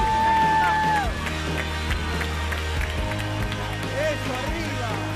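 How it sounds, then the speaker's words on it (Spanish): A studio audience on a Spanish-language TV show cheers and applauds the winning trio, giving a dense, sustained crowd roar with music tones and voices mixed in. "Un aplauso bien grande para los tres"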